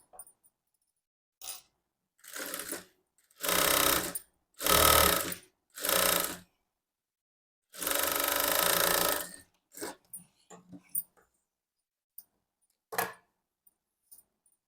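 A sewing machine stitches a blouse sleeve in a tailoring setting, running in short separate bursts of rapid mechanical clatter with pauses and small clicks between them.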